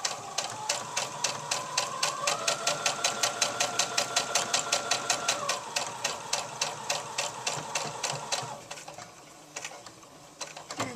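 A sewing machine stitches the hem of a doll-sized tank top with rapid, evenly spaced needle strikes, pausing and restarting briefly toward the end, close and clear.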